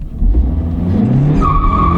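A Nissan car engine roars loudly up close on a drag strip, rising in pitch as it accelerates hard, with a high tire squeal joining partway through.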